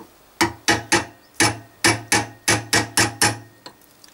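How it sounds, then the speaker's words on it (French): Chisel struck repeatedly against the edge of a rear suspension arm bushing on a 1954 Panhard Dyna Junior, about ten sharp metallic hammer taps in an uneven rhythm, close and alone. "avec un burin, je vais essayer de taper sur le bord là et voir si la bague sortira"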